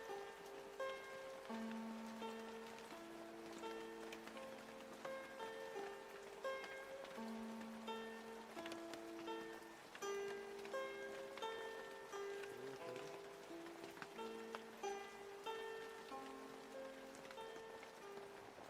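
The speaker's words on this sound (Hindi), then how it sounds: "इस धुआंधार बारिश में हमें अपने कैमरों की भी चिंता है" Steady, dense heavy rain hiss in a forest runs throughout, with sustained musical tones layered over it.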